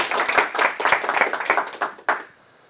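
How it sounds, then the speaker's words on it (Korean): A small audience claps to open the second part of a talk about Walt Disney: brisk, close clapping for about two seconds that ends with one last sharp clap, followed by quiet. "박수."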